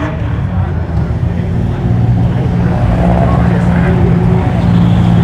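An MGA sports car runs at a Leyburn sprint event, its engine a steady loud drone that swells slightly as it goes, with an announcer talking over it.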